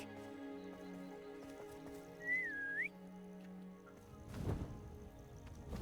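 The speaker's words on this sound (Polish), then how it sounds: "psa zawołałem, robiąc takie gwizda" A single short rising whistle from the player character in Hogwarts Legacy, used to call a dog, heard clearly once over quiet game ambience, followed later by a soft whoosh.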